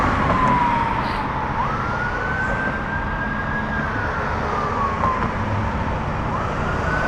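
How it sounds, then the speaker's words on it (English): An emergency vehicle siren wails in slow rising and falling sweeps over heavy road and wind rumble on a bike commute, moderately distant and steady throughout. "Comes an emergency vehicle."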